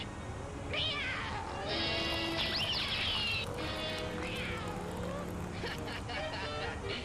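A cat meows several times in drawn-out, rising and falling cries, close and clear, alongside people talking.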